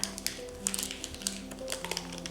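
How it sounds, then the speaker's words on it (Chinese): Light taps on the bottom of a pan holding a freshly baked castella cake, a series of soft, irregular knocks, each short and hollow. "拍拍底部，咚咚的抖臀小蛋糕就好了"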